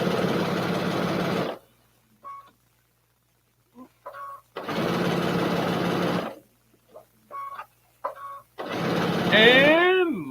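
Sewing machine stitching a fabric placemat, three loud close bursts of steady whirring, each a second or two long, separated by quiet gaps with faint clicks, and a voice speaking briefly between the runs.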